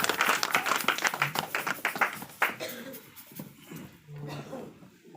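Church congregation applauding during a French-language worship service: brisk, dense clapping from many hands that thins out midway, with a voice speaking over the fading applause.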